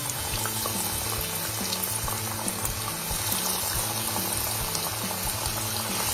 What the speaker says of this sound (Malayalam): എണ്ണ ചൂടായി കഴിഞ്ഞ് കഴിയുമ്പോൾ നമ്മുടെ ഓരോ കട്ട്ലേറ്റ് ഇട്ട് കൊടുക്കുക.